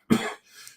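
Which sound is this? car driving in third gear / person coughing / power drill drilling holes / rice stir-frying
person coughing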